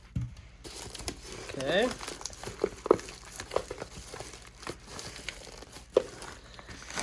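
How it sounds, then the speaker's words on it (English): Scissors snip and crinkle through the packaging of a Potomac Bead Box XL, with crumpling plastic, a few sharp clicks and taps close by, and a person speaking briefly between the cuts. "I'm gonna go ahead and try to cut it open."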